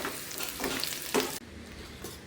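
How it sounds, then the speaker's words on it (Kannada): Sizzling frying in oil with stirring, steady crackle through the first part, then dropping to a softer, quieter sizzle after a brief break. "ಇದು ಈ ಥರ ಇವಾಗ ಫ್ರೈ ಆಗಬೇಕು ಈ ಥರ ಸ್ವಲ್ಪ ಗೋಲ್ಡನ್ ಕಲರ್ ಆಗಬೇಕು"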